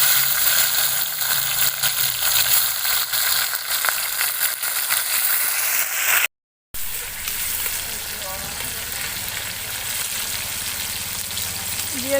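Chopped tomato hits hot oil for a Murshidabad-style jiol fish curry, raising a loud, continuous close sizzle that hisses throughout, with a brief gap midway before the frying resumes steadily.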